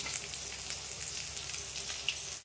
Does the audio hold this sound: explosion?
no